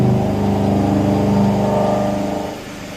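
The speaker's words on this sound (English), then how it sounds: "here we are doing the face milling." A VMC milling machine face mills with coolant running. A loud, close, tonal machine whine with layered harmonic hum holds steady, then eases and fades toward the end.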